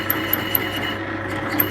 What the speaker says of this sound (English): step 2 was a bench grinder